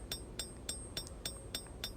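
A hammer strikes a hot knife blade on an anvil, forging the bevels: seven evenly spaced, ringing metallic blows in quick, steady rhythm, close and clear.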